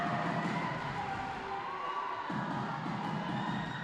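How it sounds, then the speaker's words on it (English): Crowd cheering at a women's volleyball match between university teams: a continuous roar of voices with high shouts and whoops, loud and sustained, easing briefly in the middle before swelling again. "The crowd is cheering."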